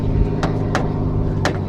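A supercharged Mustang that had been flooded with salt water drives along with a steady, loud engine drone, with a few brief sharp clicks or squeaks standing out over the continuous rumble.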